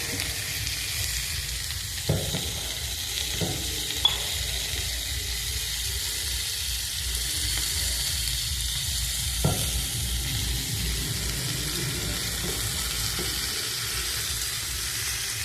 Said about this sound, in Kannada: ಈರುಳ್ಳಿ ಚೆನ್ನಾಗಿ ಫ್ರೈ ಮಾಡ್ಕೊಬೇಕು.